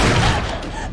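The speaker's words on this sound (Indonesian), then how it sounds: "Salah seorang polisi yang sedang berjaga mengetahui kepanikan yang terjadi lalu melepaskan tembakan ke arah Alisa." Police gunfire in a TV series scene, a quick burst of booming shots right at the start, loud and close, then decaying into a rumbling tail within a second.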